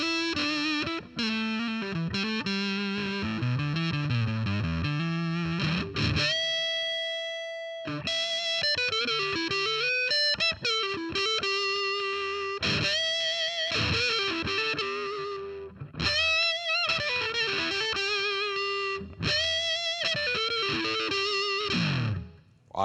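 An electric guitar runs through a Ram's Head style fuzz pedal with scooped mids, in the manner of David Gilmour. It plays sustained, heavily distorted melodic notes and bends with brief gaps, loud and close throughout.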